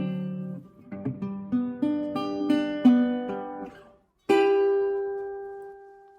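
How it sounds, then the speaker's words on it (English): Acoustic guitar played by Joe Siemens of the Rhapsody Project: a short plucked melodic phrase of close single notes, a brief pause, then one strummed chord left ringing and slowly fading, with no voice evident. "That was the sound of Rhapsody Project's co-founder Joe Siemens on the guitar and Youth Council member Mariah Roberson on voca"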